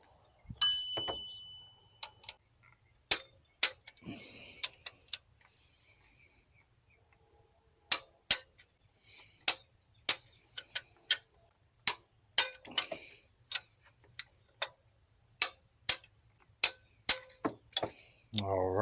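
A torque wrench ratchets while tightening a belt tensioner on a 2000–2006 Chevy GMC engine: sharp, close clicks, first scattered, then a steady series of evenly spaced ticks, with brief faint tool handling between them.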